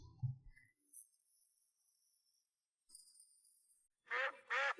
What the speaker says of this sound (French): Ici, c'est un vrai vacarme, mais ce ne sont pas nos canards. Ce sont des canards sauvages